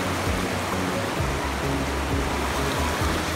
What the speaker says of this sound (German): porque ha llovido mucho y el río se ha crecido